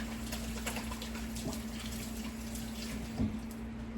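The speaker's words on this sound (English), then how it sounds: "Just wash my hands." A kitchen tap runs steadily into a sink while hands are washed, a constant close water hiss with faint splashing and a low hum underneath.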